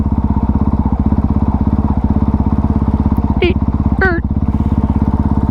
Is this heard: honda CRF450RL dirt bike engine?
yes